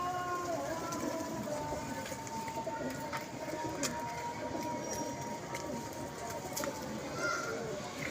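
Pigeons at a pigeon club cooing softly in the background beneath continuous nearby talking, with scattered flutters and light clatter throughout.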